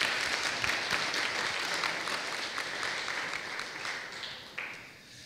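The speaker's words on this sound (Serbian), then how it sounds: "Molim vas jedan pljesak za Kset." An audience applauds at a conference closing ceremony, a dense spread of claps with some sharper individual strikes, steady at first and gradually thinning as it fades out near the end.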